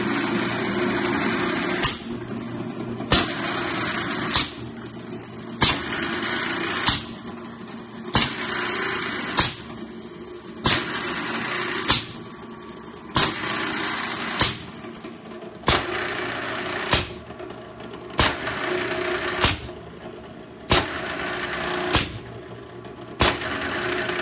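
A motor-driven rail rolling machine forms tinplate toy train track, droning under regular loud metallic clacks that repeat about every second and a half throughout.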